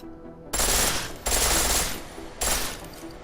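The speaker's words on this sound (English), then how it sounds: "The pistol in full auto will take down targets fast" Three rapid bursts of full-auto pistol fire crackle in Deus Ex Mankind Divided, each dense burst loud and close, separated by brief gaps with no voices.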